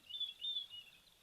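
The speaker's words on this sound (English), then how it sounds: "Oh, lovely Diederik's cuckoo calling in the background." A Diederik's cuckoo calls from a distance at an African waterhole, a few faint, high whistled notes repeated in short bursts over quiet background.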